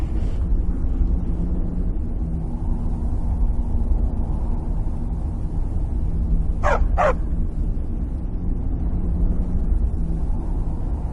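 A dog in the video game Skyrim gives two quick barks in a row, fairly close, over a steady low ambient wind-like background.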